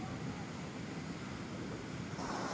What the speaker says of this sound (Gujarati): હાલમાં પવન ઘણો બધો છે